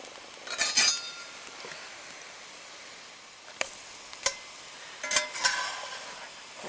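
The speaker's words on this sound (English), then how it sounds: "make sure you stir your batter so the green onions are spread throughout the bread" A utensil clinks against a glass bowl while green onion bread batter is stirred, sounding as a few separate bursts of scraping and tapping with quiet pauses between them.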